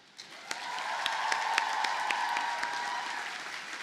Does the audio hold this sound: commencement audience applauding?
yes